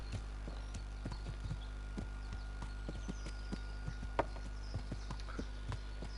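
Horse hooves clip-clopping at a steady walking pace in Kingdom Come Deliverance, a game set in medieval Bohemia, fairly quiet and regular over a low ambient hum, with no talking.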